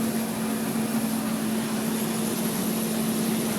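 Hubler Dromader G-10 agricultural aircraft engine at ground idle, a loud steady turbine whine and drone with a strong constant tone, unbroken and close, no voices.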